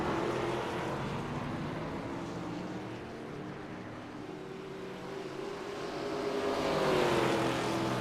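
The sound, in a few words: ARCA race cars at New Hampshire in iRacing video game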